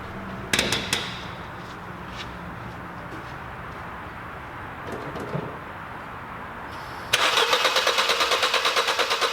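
A Ford Fiesta engine cranks and catches with a sharp burst, settles into a steady idle, then revs up loudly near the end with a strong rhythmic rumble.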